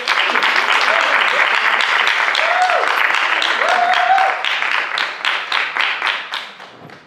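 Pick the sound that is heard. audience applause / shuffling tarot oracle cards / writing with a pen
audience applause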